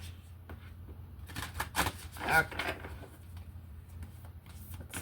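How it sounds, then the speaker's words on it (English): Tarot and oracle cards are shuffled by hand in a short flurry of papery riffles and taps, close up, with a brief spoken word. "let's get one more shuffle"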